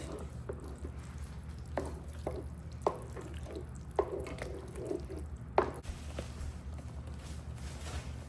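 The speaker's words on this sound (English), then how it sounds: "Stir it up really good, let that cheese melt." Deli cheese being stirred as it melts into a creamy dish in a pot, soft scraping and wet clicking spoon strokes at an irregular pace over a low simmering hiss, fairly quiet and close.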